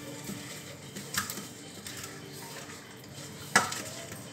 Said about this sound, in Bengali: এবারে মাছগুলোকে আস্তে আস্তে ছেড়ে দেব